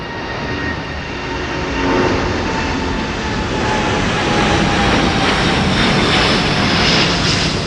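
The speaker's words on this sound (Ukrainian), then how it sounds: "Ого, великий літак летить." A large TAP Air Portugal passenger jet passes overhead, a loud, steady engine roar that swells gradually across several seconds with no talking.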